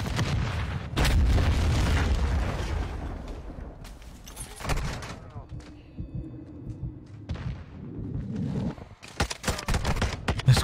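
Video game gunfire bursts in loud booming, thudding volleys, with dense crackling shots near the start and again toward the end, and a quieter stretch in between.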